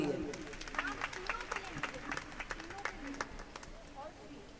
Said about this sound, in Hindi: अपने आप के लिए ही ताली बजानी जरूरी है